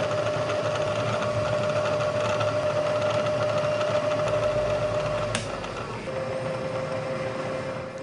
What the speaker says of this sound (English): drill another 1/2 inch hole through the center of these pieces of flat bar